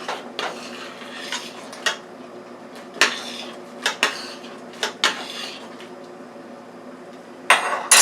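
A spoon stirs chicken noodle vegetable soup in a metal pot, giving irregular sharp clinks and scrapes against the pot between quieter sloshing stirs, close and clear.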